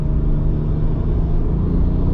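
Toyota Supra engine under hard acceleration, a steady, loud low rumble that holds throughout without a break, close and continuous with no talking over it.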